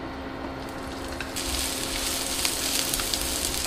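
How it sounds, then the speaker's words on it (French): Onion tipped into hot sunflower oil in a pan sets off a steady, close frying sizzle that swells and brightens partway through and keeps crackling with no talk. "Je vais y ajouter un petit peu d'huile de tournesol ou d'arachide, peu importe. Et je vais verser l'oignon."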